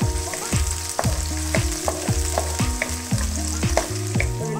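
Garlic and green chillies fry steadily in a pan over medium heat, a continuous close sizzle broken by repeated rhythmic scrapes and stirs of a utensil, with no talking.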